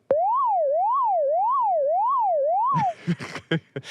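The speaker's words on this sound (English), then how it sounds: "So if you were to speed it up, you'd get maybe kind of a siren sound" A synthesizer siren-like tone sweeps steadily up and down in an even zigzag for about three seconds, then stops, followed by scattered clattering noises.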